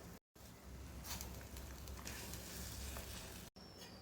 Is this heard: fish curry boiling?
yes